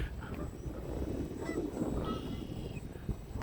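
Geese honking outdoors at a model airplane flying field, several loud honks in quick succession at moderate distance, with no talking.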